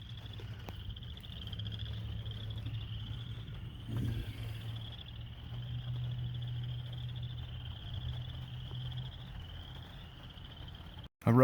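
A low chorus of frogs croaks steadily through the night air in a Walmart parking lot in Shreveport, Louisiana, with a thin high insect trill above; a sudden clatter cuts in at the end.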